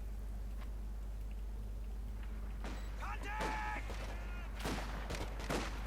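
Company of Heroes 2 battle with a Churchill Crocodile tank, Pak 40 anti-tank gun and Panther tank firing: scattered muffled shots and bursts under a steady low hum, with someone talking throughout.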